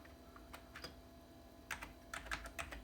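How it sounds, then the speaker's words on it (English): Keys clack on a Commodore Amiga 500 keyboard, with scattered single-key presses giving way to a quicker burst of close, crisp clicks, typed one-handed in a quiet room. "now I'm going to type on the keyboard"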